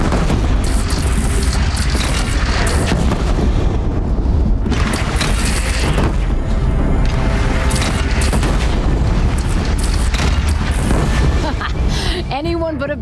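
Heavy booming blasts and crashing bursts, like cannon fire in a battle scene from the video game Horizon Zero Dawn, come loud and dense, layered with game noise, while voices speak throughout.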